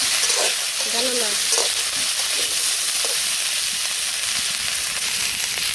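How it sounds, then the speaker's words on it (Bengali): Cauliflower frying in a pan in a village kitchen, a steady loud sizzle with brief stirring sounds and a faint voice near the start. "একটু ফুলকপি ভেজে নিয়ে তারপর আলু দিয়ে দিচ্ছি"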